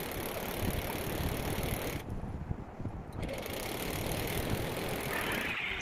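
Sewing machine stitching along marked fitting lines on a simple suit, a steady close mechanical whirring run that stops briefly midway and then resumes, with no talk.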